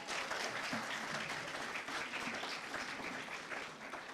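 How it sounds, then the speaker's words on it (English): Applause from the audience at a literary festival opening ceremony, a dense continuous clatter of many hands, fairly distant and faint, holding steady throughout. "I think she deserves a round of applause"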